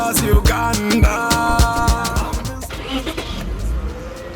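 Toyota Mark X car engine in Uganda, running loud and close with throaty, pulsing revs and a rough, rumbling exhaust note, no talking.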